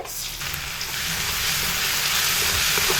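A paste ground from one large onion hits a hot pan for a potato and omelette curry, releasing a loud, dense, continuous sizzle of frying that holds steady throughout with no voices.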